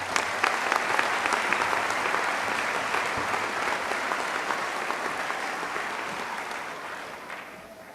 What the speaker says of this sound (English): One more round of applause for Martha.